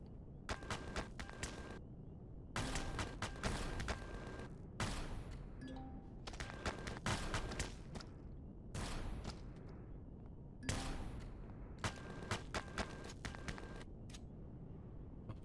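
Bursts of automatic gunfire from a convoy firefight in the video game Empyrion, loud, clustered volleys separated by short gaps, continuing throughout with no talk.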